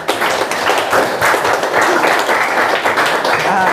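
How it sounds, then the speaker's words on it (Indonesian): A classroom of pupils claps for the day's cleaning duty group: loud, close, rapid clapping from many hands, continuous and slightly uneven throughout. "Tepuk tangan dulu untuk piket hari ini"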